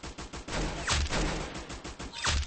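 Rapid gunfire in the Roblox shooter Arsenal: a dense run of close, loud shots with two heavier blasts standing out near the middle and end, no voices over it.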